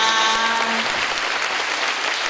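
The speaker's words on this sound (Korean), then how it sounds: "박수로 모시겠습니다." An audience claps steadily to welcome a speaker at a gathering, a dense, continuous wash of applause that fills the whole moment without any voices.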